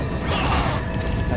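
Weapon reloading in Resident Evil 5, a short mechanical clatter of metal parts over a steady dense game soundscape, close and moderately loud, lasting about a second.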